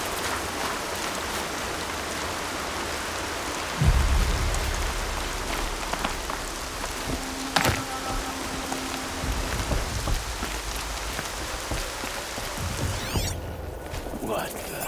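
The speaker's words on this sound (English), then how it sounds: "Rain's not so bad." Rain falling in the action game Horizon Zero Dawn, a steady dense patter on surfaces throughout, with a couple of brief thuds and other game sounds mixed in.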